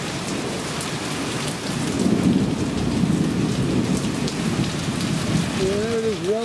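Thunderstorm with rain and pea-size hail in Olyphant: a steady, heavy hiss of rain and hail with a deep, rumbling swell of thunder partway through, loud and continuous.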